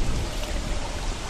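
Rain falls in Don't Starve with the Reign of Giants expansion, a dense, even hiss of drops held at a constant level through a short stretch, with no talking.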